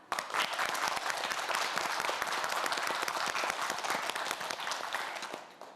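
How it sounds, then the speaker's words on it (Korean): An audience gives dense, sustained applause for quiz show contestants before a final round, the clapping loud and steady for about six seconds before tapering off at the end. "우리 학생들 힘내라고 가장 크게 큰 박수 부탁드립니다"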